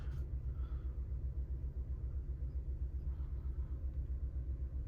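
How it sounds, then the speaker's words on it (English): A 2024 Toyota Tacoma pickup truck is driving, heard as a steady, low, even rumble of engine and road noise throughout, with no voices. "we'll drive the truck"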